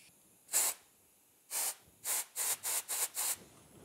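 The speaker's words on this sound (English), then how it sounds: "then we'll blow it out with air." A single short hiss of compressed air, then a pause and five quick blasts in a row, blowing out a 1978 Johnson 6HP outboard carburetor, sharp broadband puffs up close with no talking.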